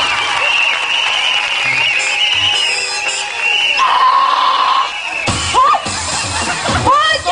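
Steady clapping from a crowd at a live band performance fills the clip, mixed with shouts and whoops, growing more chaotic near the end.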